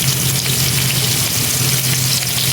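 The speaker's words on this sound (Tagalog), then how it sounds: "Ayan na, prito muna natin." Steady, loud sizzling of bigeye trevally fish frying in hot oil, a continuous crackling hiss with no talking.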